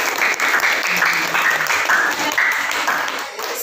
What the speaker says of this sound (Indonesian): Kasih aplaus yang meriah